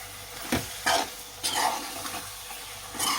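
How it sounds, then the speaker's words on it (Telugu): A spoon scrapes and stirs spicy chicken liver fry in a pan, giving several sharp, close strokes over a light sizzle at an uneven pace. "ఇప్పుడు కలిదిప్పుకుందామండి"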